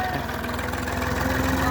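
A tractor pulls a trolley loaded with harvested rice paddy toward a rice mill, its engine a low steady drone running throughout, fairly quiet and unbroken.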